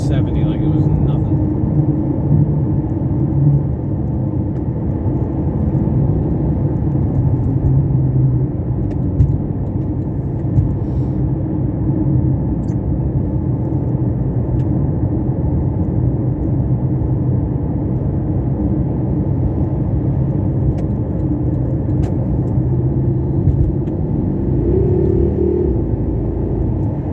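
A 2014 Porsche Panamera Turbo cruises at highway speed in Sport mode, its cabin filled with a loud, constant low road and engine rumble that holds steady the whole time.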